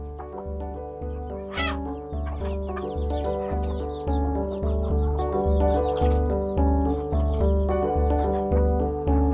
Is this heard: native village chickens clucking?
yes